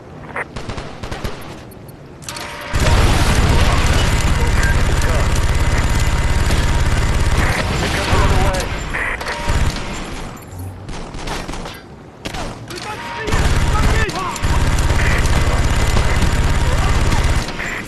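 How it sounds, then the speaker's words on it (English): Sustained minigun fire in the Call of Duty: Strike Team video game, loud continuous bursts lasting several seconds each, broken by short pauses and overlapping with other game combat noise. "Get on that minigun! Mow him down!"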